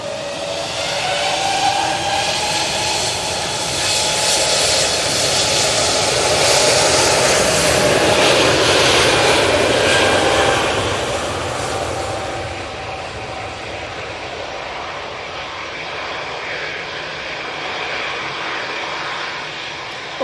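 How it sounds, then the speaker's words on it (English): A Lufthansa City jet airliner departs from Manchester Airport for Munich, its engines a loud, broad roar that swells and then slowly fades into a distant rumble, with no talking. "Lufthansa City, aka proper Lufthansa, is off to Munich now"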